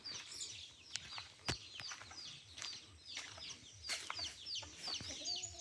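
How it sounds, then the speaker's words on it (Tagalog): Chickens cluck and chatter nearby in a busy, overlapping flock on a farm in Palawan, with a few sharper squawks rising above the steady clucking. "Mga manok."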